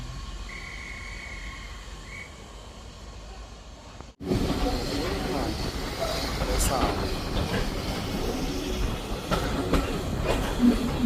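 A steam train rumbles along the track with a steady rolling clatter after a brief quieter stretch, continuous and fairly close.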